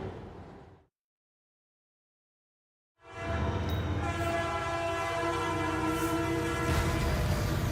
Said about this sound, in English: Why is the train honking?